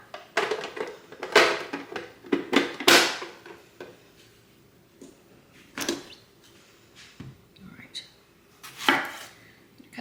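Washed apples chopped with a knife on a board: sharp, irregular cuts in quick clusters, loud and close, with pauses between bursts.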